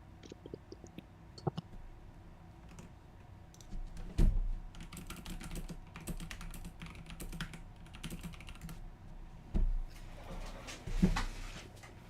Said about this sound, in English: So I'm typing.